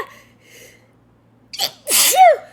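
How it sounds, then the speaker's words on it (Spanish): A single loud, close sneeze bursts out after a quiet pause, preceded by faint breathy inhalations and a soft sharp intake of breath building up to it. "voy a estornudar"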